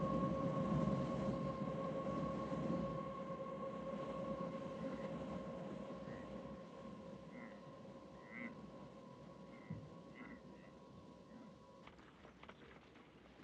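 A train rolling along a railway in the desert, heard as a faint, steady rumble with sustained humming tones and occasional soft clicks, fading slightly before stopping abruptly near the end.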